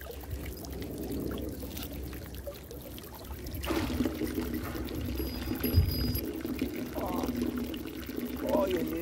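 Fresh mountain water pours from a village fountain in Gimmelwald, Switzerland, a close, steady splashing rush that swells partway through and keeps running.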